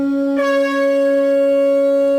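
Synthesized conch shell (shankh) tone on a Korg Kross 2 keyboard, one sustained steady blast with a rich harmonic buzz, loud and close, held without a break and with no talking.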